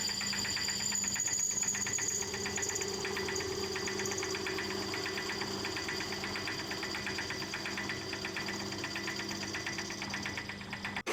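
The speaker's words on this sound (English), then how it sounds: "Here, we're machining some barbs on the end of the tube to make sure we get a reliable joint between the spigot and the silicone hose." Lathe machining barbs onto the end of a metal tube for a hose spigot, a steady close mechanical hum with a rapid rhythmic chatter of cutting running throughout.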